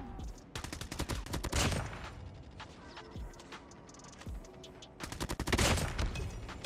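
Rapid automatic gunfire bursts in Call of Duty Mobile with a gold M4, sharp repeated shots in two loud volleys separated by scattered single cracks and mechanical clatter, close and punchy.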